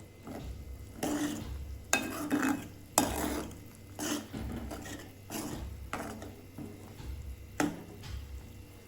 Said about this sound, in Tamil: இதை நல்லா கட்டி இல்லாமல் கரைச்சி விடுங்க